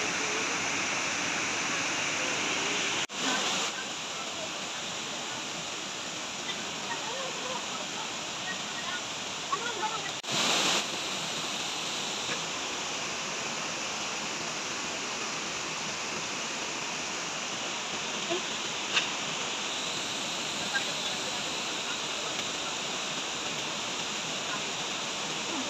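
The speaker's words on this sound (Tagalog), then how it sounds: "kitang-kita yung view dito ng falls" Hinguiwin Falls, a waterfall at Padre Burgos, Quezon, pours in a steady, loud broadband roar that fills the scene without letup, with a few brief clicks and knocks over the constant rush of water.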